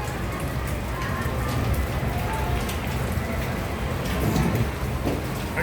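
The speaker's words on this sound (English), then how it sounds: "rainy night out here." Steady, dense rain pours onto a street at night in Walking Street, Philippines, a constant loud patter with scattered louder drops throughout.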